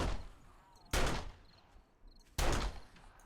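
Two loud, separate gunshots from a sniper rifle in the zombie survival game 7 Days to Die, each a sharp crack followed by a decaying tail, with faint ambient insect chirps between them.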